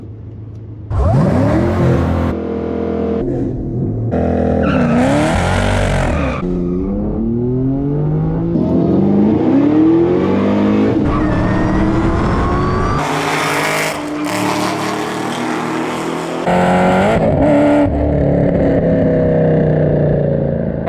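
A Chevrolet Camaro ZL1 launching down a drag strip, engine loud and close, revving hard and climbing through several gear changes with rising pitch sweeps over about twenty seconds, no talk.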